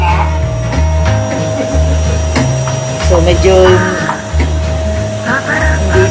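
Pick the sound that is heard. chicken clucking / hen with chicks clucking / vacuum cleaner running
vacuum cleaner running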